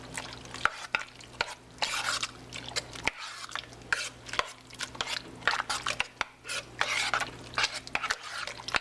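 A spoon stirs a chunky mixture in a slow cooker, producing repeated wet scraping and clattering strokes against the pot, close and fairly quiet over a steady low hum, with no talking.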